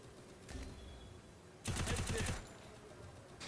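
Gunfire in the Free Fire MAX Clash Squad 4v4 mode: a short burst near the start, then a loud rapid automatic volley lasting under a second, and another shot at the end, over low background game noise.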